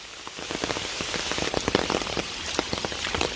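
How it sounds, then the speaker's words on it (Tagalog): Heavy rain pours down in a dense, steady patter of drops striking a surface, loud and close throughout with no voices. "Grabe ka kusog sa uwan mga day."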